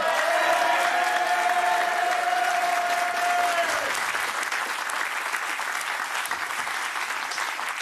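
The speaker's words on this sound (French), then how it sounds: "Je voudrais qu'on l'applaudisse." Studio audience applauds guest Patrick Sébastien on a live broadcast, steady sustained clapping with a held musical tone for the first few seconds, the applause continuing evenly afterward.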